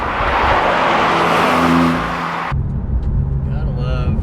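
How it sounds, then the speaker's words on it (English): A Porsche 991.2 Carrera 4S with PDK transmission pulls hard with a loud engine roar, then an abrupt cut marks a quick gear shift, followed by a rougher lower rumble as acceleration continues. "When these PDKs crack the gears off, it makes a very mechanical like noise"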